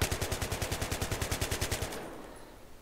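Automatic gunfire in Battlefield 3, a rapid, evenly spaced burst of about twenty loud shots that stops abruptly, leaving a fading echo before a final shot at the end.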